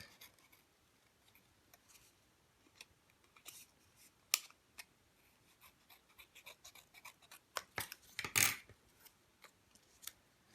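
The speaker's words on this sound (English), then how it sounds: "I'm going to trim it down just a little bit." Scissors snip around a cardstock circle cut for a scarecrow's face in a fall-themed papercraft, a scatter of quiet close clicks and short cuts with one louder burst of snipping near the end, no talk.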